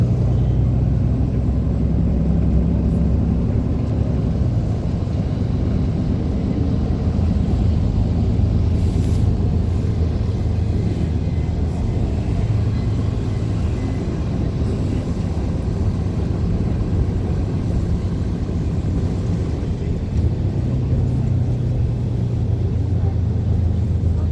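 Distant Boeing airliners at Heathrow airport create a steady, broad low rumble that continues without break, with faint vehicle-like engine noise mixed into the constant drone.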